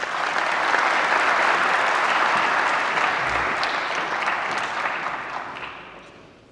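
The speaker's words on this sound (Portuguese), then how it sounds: "Uma salva de palmas, por favor." Sustained applause from a conference audience at a formal opening session of a Lisbon forum, dense and steady clapping that holds loud throughout, then gradually thins and fades toward the end.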